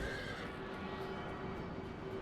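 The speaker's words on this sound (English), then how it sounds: "Horse." A horse whinnies in the Final Fantasy 14 video game, a thin, sustained neigh held steadily over quiet in-game ambience.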